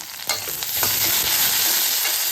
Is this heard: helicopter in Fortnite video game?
no